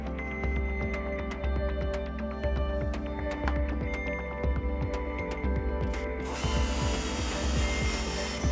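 Steady low-pitched drilling through material, a continuous grinding whir with small repeated catches, close and unbroken for the whole stretch.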